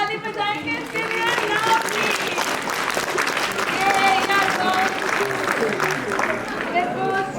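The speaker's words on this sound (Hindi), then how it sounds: "ताली बजाएंगे इसके लिए." Audience applause at the 2023 Ladakh Book Festival, a steady wash of clapping lasting several seconds, heavily mixed with crowd voices and chatter throughout.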